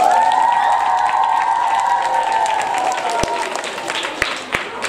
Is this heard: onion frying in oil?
no